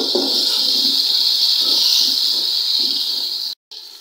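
Ginger garlic paste sizzles in a hot pan while being mixed for shaljam gosht, a steady bright hiss with soft stirring scrapes underneath that cuts off abruptly near the end.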